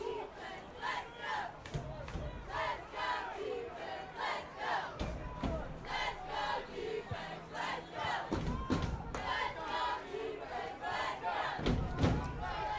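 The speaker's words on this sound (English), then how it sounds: "The Matador crowd trying to get this defense fired up." Matador crowd at a varsity high school football game between Bolsa Grande and Loara, yelling and cheering steadily to fire up the defense, with thumps and loud surges near the end and voices mixed throughout.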